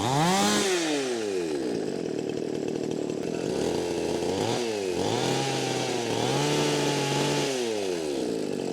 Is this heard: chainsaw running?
yes